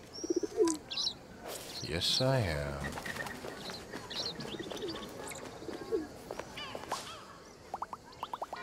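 Birds calling in the wildlife game Alba: A Wildlife Adventure, with scattered chirps, tweets and soft coos over a busy ambient backdrop, partly under a speaking voice.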